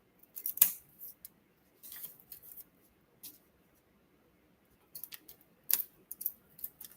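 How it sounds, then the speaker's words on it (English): Scissors cut paper in a quiet room, giving a few crisp, separate snips, then a pause and a quick cluster of snips near the end. "Come on, scissors."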